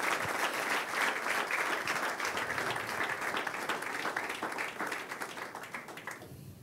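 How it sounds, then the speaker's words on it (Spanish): A church congregation applauds together during a sermon, steady dense clapping that holds for several seconds and thins slightly at the end, no voices over it. "¿Cuántos deben aplaudir al Señor?"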